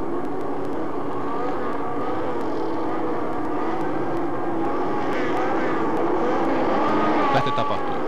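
Race car engines at the start of a 1983 Ahvenisto speed-day race, including a heavy Camaro, building to a loud sustained droning roar that swells toward the end, with no clear talk.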